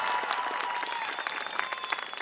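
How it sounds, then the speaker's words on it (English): Crowd at a university freshman convocation cheering and applauding, a broad wash of clapping with a faint sustained tone underneath, steady and fairly distant, fading slightly toward the end. "How about a cheer?"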